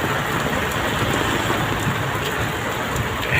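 Heavy rain pouring onto a flooded street along Commonwealth during a downpour, a dense, constant hiss of falling water that stays loud and even throughout, with no voices.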